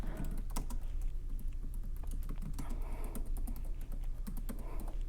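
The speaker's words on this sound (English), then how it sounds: "now let me type on it so you can hear how quiet it is" Soft, rapid key presses on a Microsoft Designer Compact Keyboard patter continuously at close range, muted and fairly quiet, with a low steady hum beneath and no voices.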